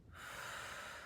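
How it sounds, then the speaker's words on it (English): A person takes one quick sharp inhale followed by a breath out during breathwork practice, close and soft. "Quick inhale, exhale"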